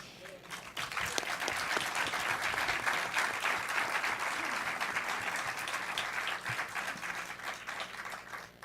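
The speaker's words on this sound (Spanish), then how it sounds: "este aplauso, que es tan valioso para mí y para nosotros" An audience in a hall applauds at a political lecture, a dense, sustained burst of clapping that swells quickly and holds steady for several seconds before beginning to thin.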